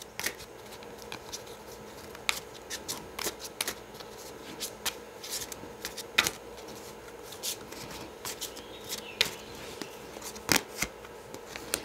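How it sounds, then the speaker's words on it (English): Fairy tarot cards being shuffled close by, a steady run of soft riffling and slapping card sounds with sharper clicks, continuing alone without speech. "So these are the fairy tarot cards."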